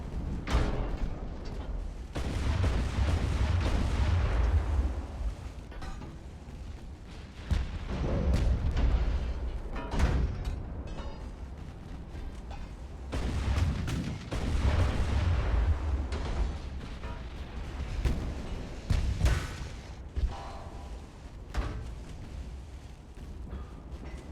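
Heavy naval guns fire in the warship game Ultimate Admiral: Dreadnoughts, a series of deep, loud booms at irregular intervals, each trailing off into a rumbling roar, with no talking over them.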